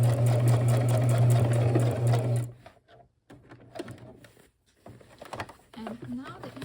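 A sewing machine stitches through a small leather demilune bag in a loud, rapid, steady whir for about two seconds, then stops, followed by quieter handling sounds and a person speaking.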